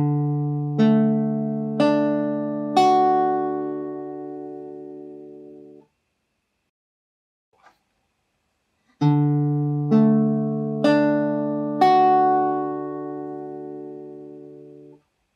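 Guitar strings plucked one at a time, each note ringing into a sustained chord, played twice with a pause between, clear and close.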